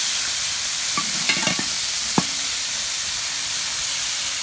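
Food fries in a pan with a steady, loud sizzling hiss, broken around the middle by a few brief clinks and scrapes. No voices are heard.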